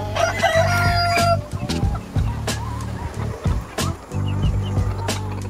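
Chickens in a PVC coop, with a rooster giving a loud, close crow at the start, followed by scattered clucks and squawks from the flock with no one talking.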